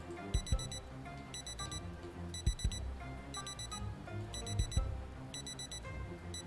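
An alarm clock rings in the Project Zomboid video game, repeating in regular bursts of bright beeping over a busy background of game sounds and low thumps, moderately loud and steady throughout.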